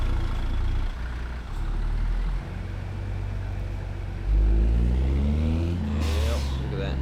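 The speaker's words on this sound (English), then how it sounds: "We got a lot of traffic, that's for sure." Road traffic of cars and trucks in American Truck Simulator, a steady engine rumble with a louder heavy vehicle swelling past near the end and a brief hiss like an air brake.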